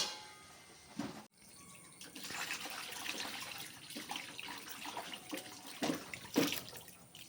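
A kitchen tap runs while raw chicken pieces are washed, giving a quiet, continuous splash of water with brief surges and a short break near the start.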